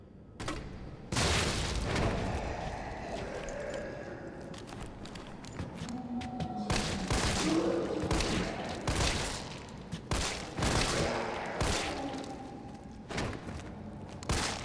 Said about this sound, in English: Oh, actually, I got mine rounds. Mine rounds will do.